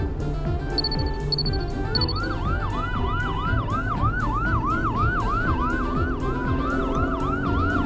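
A cartoon ambulance sounds a loud, continuous wailing siren that rises and falls in a steady rhythm over engine noise, after a few brief beeps at the start.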